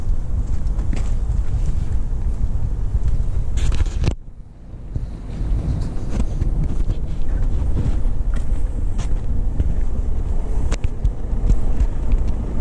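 A single car drives past on a narrow two-way street in the Carnide neighbourhood of Lisbon, a steady broadband rumble with wind buffeting the microphone, briefly dipping before the traffic noise returns.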